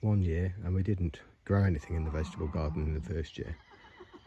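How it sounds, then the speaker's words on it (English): Horses neigh and whinny next door to a rural vegetable garden, faint in the background beneath a close, steady voice talking throughout. "hopefully you can hear the horses in the background next door"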